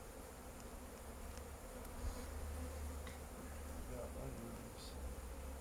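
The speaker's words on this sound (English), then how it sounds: "there's quite a lot of bees in here" A dense, steady hum of many honeybees buzzing close by inside a hive, continuous and low, with no talking.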